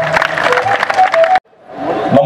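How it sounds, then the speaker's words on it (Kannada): A crowd at the Kalyana Karnataka Utsava celebration in Ballari claps and cheers loudly, then the sound cuts off abruptly before the applause swells back in more faintly. "ಬರಲಿ ಮತ್ತೊಮ್ಮೆ ಜೋರಾದ ಚಪ್ಪಾಳೆ."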